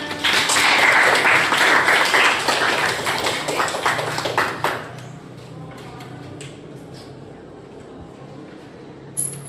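A group claps together during an Indonesian classroom training session on building resilience, a loud dense burst of applause for about five seconds that then fades into quiet room tone with a few scattered taps.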